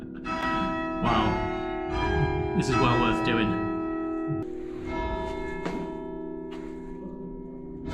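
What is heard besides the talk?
church bells ringing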